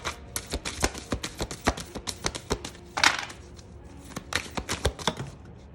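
A tarot card deck being shuffled roughly and unevenly, with a quick run of sharp papery riffles and slaps that swell into a louder burst near the middle before the rapid clicking carries on, close by and with no talk.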